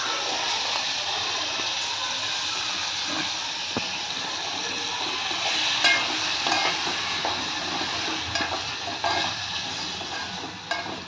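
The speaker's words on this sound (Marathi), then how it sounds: "वजडी टाकल्यानंतर थोडे परतायची" Goat intestines (vajdi) are stir-fried for a curry, giving a steady, close hissing sizzle with faint scrapes of stirring throughout.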